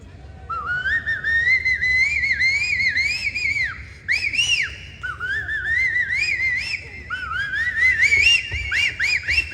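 A mimicry performer on a comedy stage imitates a cuckoo's call with a voice, whistling a run of rising, warbling phrases in short bursts, close and fairly loud with brief pauses.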